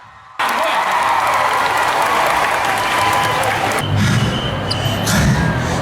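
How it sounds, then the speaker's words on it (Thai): Loud, sustained applause from a large audience at an XOXO showcase in central Siam bursts in after a brief quiet start and continues steadily, with a crowd murmur underneath. "ปรบมือให้ตัวเองหน่อยทุกคน"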